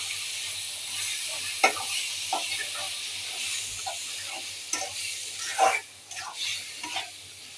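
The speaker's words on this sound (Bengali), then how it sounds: "চিংড়ি দিয়ে দিচ্ছি।" Half a kilo of shrimp frying in a pan for a Bengali prawn dish, giving a steady close sizzle with a few sharp stirring clatters and spatters scattered throughout.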